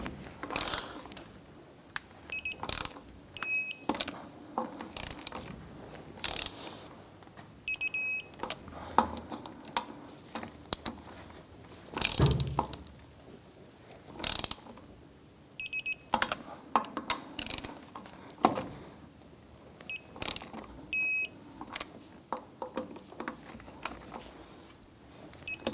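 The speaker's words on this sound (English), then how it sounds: "Let's go ahead and torque down our lug nuts to 95 foot-pounds." Torque wrench tightening lug nuts on a Chevrolet S-10 rear wheel in a garage, a series of quiet metallic clicks and ratcheting bursts scattered over the stretch, with occasional knocks and beeps and no talk.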